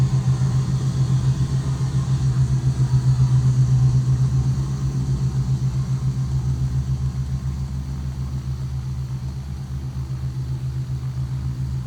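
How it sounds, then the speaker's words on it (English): A Douglas DC-6 piston airliner in a flight simulator game drones with a loud, steady low engine hum and rumble, slightly louder in the first few seconds then settling, with no talk over it. "This plane is very noisy."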